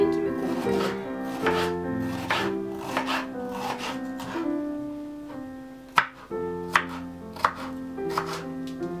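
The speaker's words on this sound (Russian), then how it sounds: "Сладкий болгарский перец тоже нарезаем маленькими кубиками." A knife chops a bell pepper into small cubes on a cutting board with quick, regular taps, while gentle music plays in the background.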